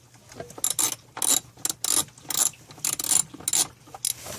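A ratchet wrench loosening a 10 mm ground nut on a Mercedes during a brake light kit install, giving repeated bursts of sharp metallic clicking in an uneven rhythm, close and clear with no talking.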